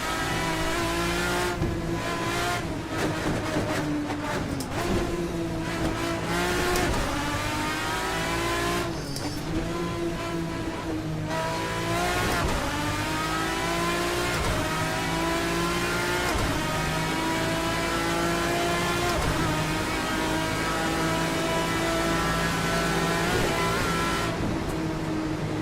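A race car engine in the Assetto Corsa racing game screams continuously at high revs, with repeated sharp throttle blips on downshifts and occasional tire squeal, loud and close throughout with no voices.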